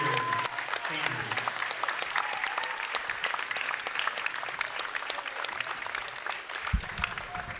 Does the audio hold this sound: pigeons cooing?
no